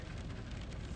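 Steady rain pattering on a car, a dense, even hiss of drops close by with no pauses and no voices.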